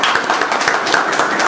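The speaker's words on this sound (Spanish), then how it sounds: "a quien recibimos con aplausos" An audience applauds to welcome a literary critic at a book presentation. The clapping is dense, steady and fairly loud, filling the whole moment without a break.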